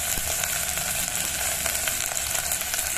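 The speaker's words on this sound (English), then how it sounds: "Keep the flame slow and keep on stirring it so that the rice mixes with all the masalas" Rice and masalas such as salt, haldi and dhania powder fry in a pot of whole mung dal khichdi over a slow flame, with a steady close sizzle and occasional faint stirring scrapes, no talking.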